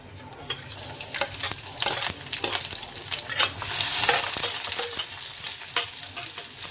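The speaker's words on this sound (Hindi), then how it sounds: "इसमें डाल दूंगी जीरा" Cumin seeds crackle and sizzle in hot oil in a home kitchen pan, a steady bright frying hiss with scattered pops and a few stirring scrapes, close and moderately loud.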